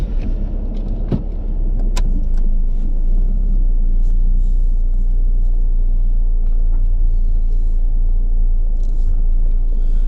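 A Saab 9-5 with an automatic transmission on a test drive, heard from inside the cabin: a loud, steady low engine and road rumble throughout, with a few light rattles early on.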